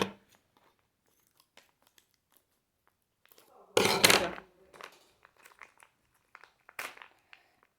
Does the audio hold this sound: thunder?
no